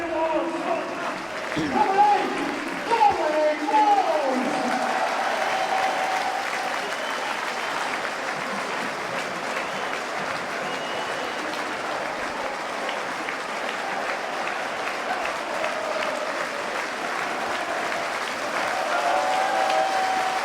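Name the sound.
stadium crowd applauding a goal at a football match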